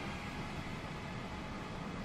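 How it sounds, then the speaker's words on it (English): A train in the Transport Fever rail simulation game rumbles past with a steady, even wash of rolling noise that holds at a constant level throughout, with no talking. "I heard another train in the background there"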